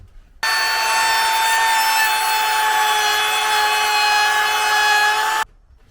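A router cuts into wood while trimming a fitting for a Peugeot Boxer van roof conversion, giving a loud, steady, high whine that starts abruptly, holds unbroken for about five seconds, then stops. No one speaks.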